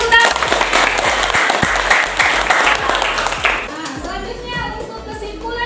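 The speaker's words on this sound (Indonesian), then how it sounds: "Berikan tepuk tangan." Classroom applause after a student presentation on fluid buoyancy, a loud burst of many hands clapping for about four seconds before fading, with children's voices mixed in and a teacher speaking.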